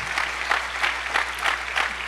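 A congregation at a church conference applauds God, a steady wash of clapping hands from a crowd, even and sustained throughout.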